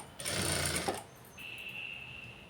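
A sewing machine makes one short close burst of stitching on a blouse side joint, then stops, leaving a faint thin whine afterward.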